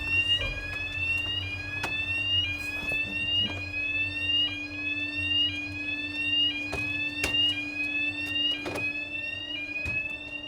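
A baler's repeating electronic alarm sweeps upward in pitch over and over, steady and insistent, over a low machine hum with occasional clicks.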